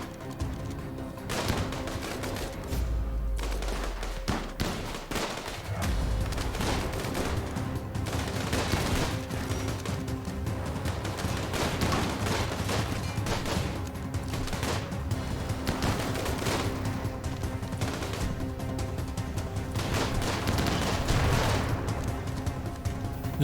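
Sustained automatic turret gunfire in RimWorld during an assault on a powered enemy base, steady rattling bursts with occasional heavier booms throughout, fairly loud and constant.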